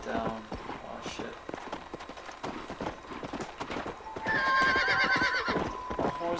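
In the video game Red Dead Redemption, a horse's hooves clop rhythmically at a gallop and the horse lets out a loud whinny near the end, with someone talking over it.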